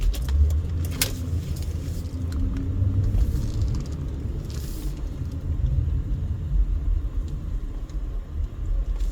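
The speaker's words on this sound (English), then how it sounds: "Yeah, traffic is pretty heavy." Heavy road traffic near the north end of the Las Vegas Strip, a steady loud rumble of car engines and tyres passing close by with no pauses.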